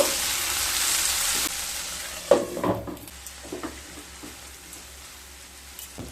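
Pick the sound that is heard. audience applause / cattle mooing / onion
onion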